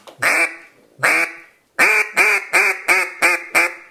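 A Haydel H2 duck call is grunted into, quacking in short bursts: two separate quacks, then a quick rhythmic string of five more, loud and close.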